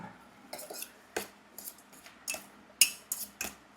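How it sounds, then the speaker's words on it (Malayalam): Chopped chilies and onion are crushed with coconut oil and salt by hand, giving a quiet series of irregular clinks, scrapes and taps of utensil against a dish, close and faint, with no talking. "നല്ല രീതിയിൽ ഇങ്ങനെ ഇങ്ങനെ അങ്ങനെ ഉടച്ചു കൊടുക്കുക"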